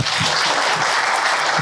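A dinner audience bursts into applause, a dense steady clapping that fills the whole short burst.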